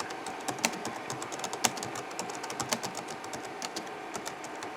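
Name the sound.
typing on an old computer keyboard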